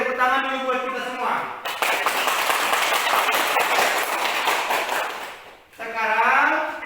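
A classroom of students bursts into loud, dense applause for several seconds, cut between bursts of a teacher's voice before and after.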